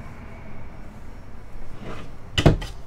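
A closet door in a small travel trailer opens with a soft rub, then a louder knock-and-click near the end, over quiet room noise.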